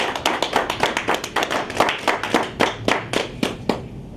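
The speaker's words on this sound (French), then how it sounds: "manifestons-le par acclamation" A meeting hall assembly shows approval by acclamation with crisp, separate hand claps in a fairly regular rhythm, about a score of sharp strikes, close and clear.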